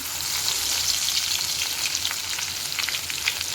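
Mustard seeds, cumin and garlic sizzle steadily in hot oil as a drumstick dry vegetable dish begins, a close, continuous crackling fry with faint pops throughout and no voices.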